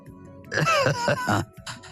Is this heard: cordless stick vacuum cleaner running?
no